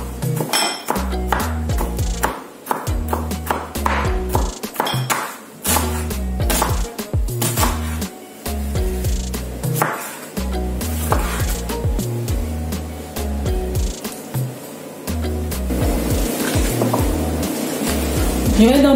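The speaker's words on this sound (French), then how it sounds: "je n'ai que l'ail, l'oignon et la tomate à découper" Garlic, onion and tomato being chopped on a board, with quick rhythmic knife taps in bursts across the whole stretch, close and fairly loud, with someone talking over parts of it.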